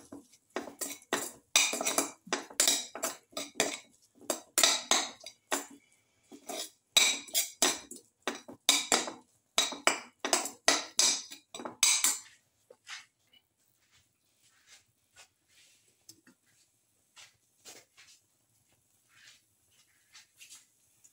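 A spoon scrapes and clinks against a pot while salted garlic split chickpea casserole ingredients are stirred, in quick rhythmic bursts for about twelve seconds before it falls nearly silent with faint scattered sounds.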